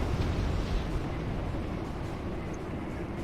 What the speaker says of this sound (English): Pretty explosions